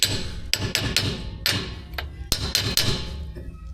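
Repeated sharp metallic hammer strikes, close and loud at an uneven pace, drive a bearing race into the differential housing bore of a Ford F250.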